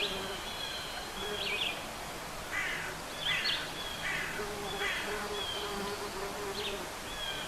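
Two recorded bird calls repeat through one rear channel of a four-channel ambience setup, faint chirps over a steady background hiss, recurring several times.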